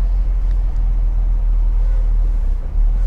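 A running car at a salvage auction yard idles with a low, steady engine rumble as the clutch is eased out to creep into gear, no talk over it.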